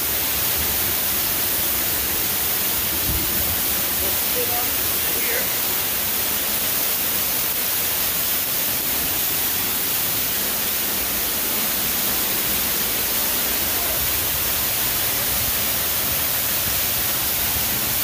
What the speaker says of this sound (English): There it is. Big old waterfall.